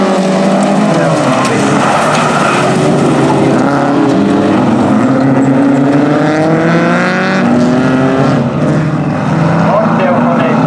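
A Ford Sierra rally car revs hard at the start of a rally race in Puolanka, its loud engine pitch climbing and sweeping repeatedly under a constant roar.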